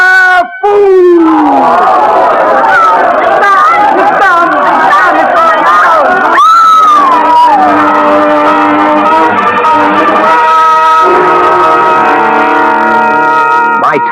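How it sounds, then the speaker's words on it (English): A frightened crowd in an old radio drama bursts into loud, chaotic shouting, wailing and howling that swells and rolls on for many seconds, with an excited babble of many voices close up. "The crowd went mad with fear"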